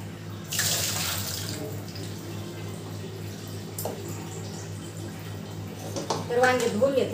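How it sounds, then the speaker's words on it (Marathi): Tap water runs steadily into a sink while brinjals are washed, a continuous close splashing rush with a brief clatter near the end. "तर वांगे धुवून घेतले."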